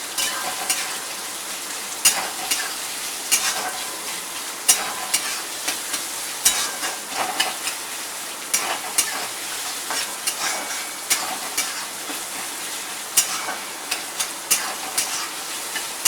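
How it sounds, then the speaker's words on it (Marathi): Two finely chopped onions frying in a pan until reddish, a steady crackling sizzle with frequent scraping strokes of a spoon stirring through them, close and continuous without any voices. "बारीक चिरलेले 2 कांदे, तिला लालसर असं चांगलं भाजून घ्यायचं"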